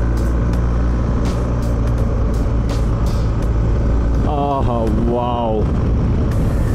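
A BMW 1250GS motorcycle is ridden through a turn, its engine a steady loud drone with wind rush throughout, rising and falling briefly in pitch mid-clip as the bike leans and accelerates; a rider briefly exclaims.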